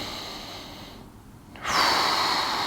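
A single person breathes deeply and close to the mic, with a long hissing breath that drops away briefly and then a strong, steady rush of air on the exhale.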